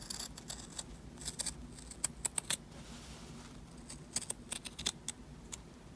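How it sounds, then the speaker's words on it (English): Scissors snip through a fabric sleeve mockup for a 1940s-style spring dress, a string of sharp, quiet cuts in irregular bursts against a soft room hush. "Now I'm gonna cut it open."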